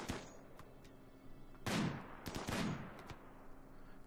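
Gunfire in the video game RimWorld sounds as a few sharp, separate shots that ring out over a quiet background. Two louder bursts land near the middle of the clip.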